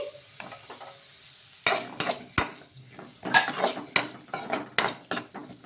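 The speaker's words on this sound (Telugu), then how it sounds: "నూనె వేడెక్కిన తర్వాత ఇందులోకి ఒక చిన్న ఉల్లిపాయ అలాగే కారానికి తగ్గట్టు పచ్చిమిర్చి కూడా వేసుకోవాలి వేసుకొని ఇవి మగ్గించుకోవాలి" Onion and green chillies sauté in hot oil in a pan, starting with a quiet sizzle, then a spoon repeatedly scrapes and clanks against the pan in irregular close strokes.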